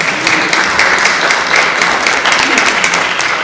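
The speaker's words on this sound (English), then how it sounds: "No clapping till we get through the question part." Audience applause at a town meeting with a state representative, a steady dense patter of many hands clapping filling the room from start to end.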